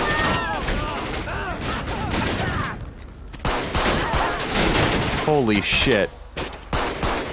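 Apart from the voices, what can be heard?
heavy gunfire in GTA V LSPDFR video game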